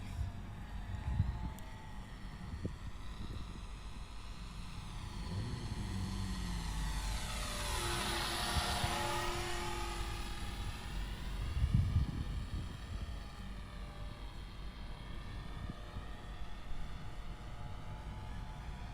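A Rage R/C Taylorcraft micro RC airplane flies overhead outdoors, its small electric motor whining and rising in pitch as it passes close, then fading to a fainter buzz at a distance.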